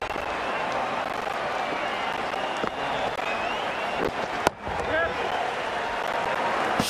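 The crowd at an England versus Australia Ashes cricket match applauds and cheers a big hit in a broad, sustained roar, with a sharp thump partway through and a commentator talking over it.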